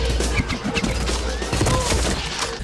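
Rapid gunfire bursts crackle through a vampire fight scene in the 1998 film Blade, dense and loud over a low rumbling score with clashing impacts.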